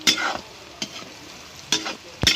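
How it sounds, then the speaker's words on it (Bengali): Potatoes sizzle in hot oil, broken by a few sharp scrapes of a spatula stirring the pan, close and fairly loud with no talking. "তা আলুগুলো আমরা ভেজে নেব"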